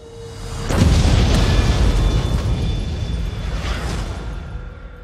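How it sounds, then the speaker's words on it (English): A powerful explosion in a city booms suddenly and then rumbles on loudly as a long, rolling roar that slowly fades, with no voices over it. "An explosion rocked the city today."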